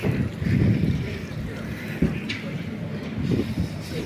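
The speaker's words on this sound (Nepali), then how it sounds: "अघि जस्तै हावा नै चलिरहेको घरिघरि" Gusty wind buffets the microphone in low rumbling bursts in a college area during light rain, rising and falling over a few seconds with faint background noise.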